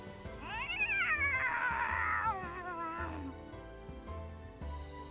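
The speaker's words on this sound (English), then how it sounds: "it lets out a single disgruntled meow" A single drawn-out, complaining cat meow from the visual novel game The Fruit of Grisaia rises and falls over soft background music.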